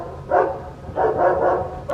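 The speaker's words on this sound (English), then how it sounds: "Dogs again." Dogs barking at HMP Lindholme prison, a former RAF camp, with two bursts of loud, close barking separated by a short pause and a third bark starting at the end.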